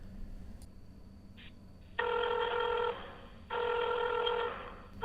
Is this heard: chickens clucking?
no